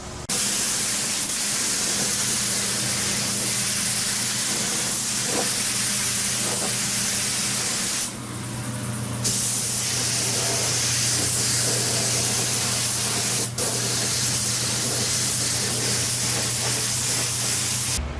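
A spray gun hisses steadily as a second, thicker coat of paint goes onto a car fender, a close continuous spray with a brief change in the hiss partway through.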